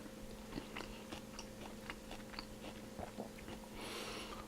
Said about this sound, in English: So now we're just going to have a taste test.